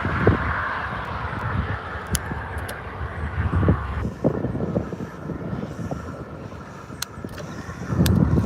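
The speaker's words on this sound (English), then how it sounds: "Oh, big truck coming, big truck." A big truck approaches along a highway, a broad rumbling roar that swells and builds over several seconds beneath steady wind noise, heard from the roadside.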